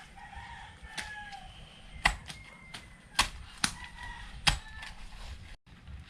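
Several roosters crow at a distance while penned hens cluck in a rural yard, punctuated by a few sharp clicks and taps close by.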